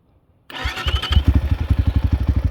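A 300cc ERZ enduro motorcycle engine fires up after a short silence, then settles into a loud, close, even idle with a steady chugging pulse.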